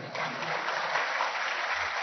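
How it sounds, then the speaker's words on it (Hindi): Audience applause at an event concerning the Supreme Court building, a dense steady wash of many hands clapping that fills the whole stretch at even loudness with no talking over it. "ये तो आपका विषय है, ताली बजा सकते हैं।"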